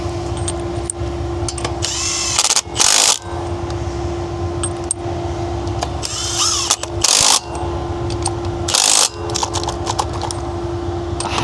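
Power tool whirring in short bursts while lug nuts are driven onto a crashed HSV car's wheel, loud and close, with a steady hum beneath and a few sharp metallic clicks in between.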